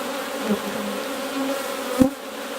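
Honey bees buzz steadily inside an opened beehive's brood box, a dense continuous hum with a brief louder bump near the end.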